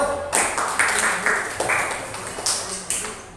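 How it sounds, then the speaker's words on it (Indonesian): A class applauds group 1 with a short burst of clapping in a classroom, several sharp claps and rhythmic patterned taps standing out over a general clatter of hands, fairly close and lively. "tepuk tangan kelompok 1"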